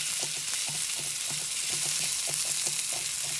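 Sausage fries in a pan for sausage and peppers, giving a steady, loud sizzle with regular scraping stir strokes and no voices.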